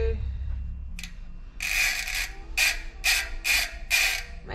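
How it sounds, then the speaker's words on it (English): Spanners tightening a Halo SuperDrive freehub during a single-speed conversion from a Shimano 12-speed bicycle, a few soft metallic clicks followed by five loud ratcheting bursts in a steady rhythm, close up. "So we'll just use our spanners to tighten it up so it won't come loose."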